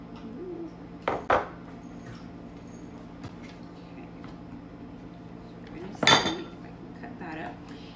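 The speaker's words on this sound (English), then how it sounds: "I'm just gonna cut those up in pieces" A knife cuts food into pieces, producing two brief, separate clattery knocks against a quiet background with faint room noise.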